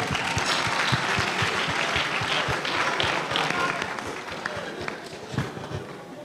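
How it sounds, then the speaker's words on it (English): A university lecture-hall audience at an e-learning week event breaks into sustained applause, many hands clapping close and steady, with some crowd murmur and footsteps, tapering slightly toward the end. "A round of applause."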